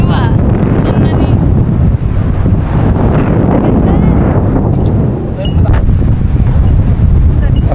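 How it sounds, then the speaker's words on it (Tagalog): Strong gusting wind buffets the microphone on a mountaintop in Japan during a hike, a loud, continuous roar with brief lulls, and people talk faintly beneath it. "So windy up here."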